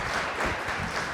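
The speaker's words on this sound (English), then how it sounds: "I'll give each other a round of applause." Participants at a quality institute symposium applaud one another: a short burst of soft, distant-sounding clapping from a group, with no voices over it.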